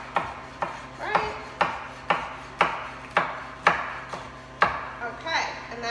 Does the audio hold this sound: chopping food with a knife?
yes